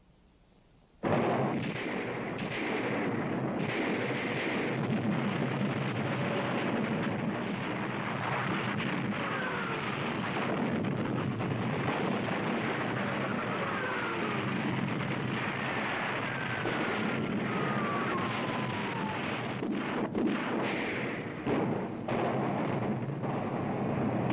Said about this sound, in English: As planned, the British guns opened fire at exactly 9:40.